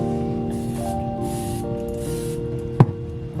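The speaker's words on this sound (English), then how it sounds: "use a setting spray and just set" Three short hissing bursts of makeup setting spray over foundation and concealer, evenly spaced, over a steady humming background, followed by a single sharp knock.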